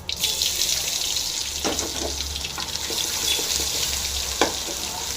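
Crushed garlic sizzles in hot oil with mustard seeds in a pan, a steady hiss of frying broken by a few faint pops and clinks.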